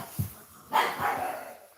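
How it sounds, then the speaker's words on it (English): A pug barks indoors, letting out a short low yip and then a louder, sharper bark followed by a trailing whimper, with a final bark starting at the end. "Biscuit, you woke up another doggy."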